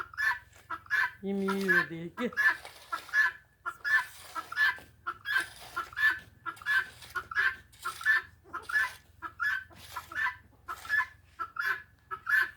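Chickens cluck steadily in a rhythmic, repeating pattern nearby, with a person speaking briefly near the start.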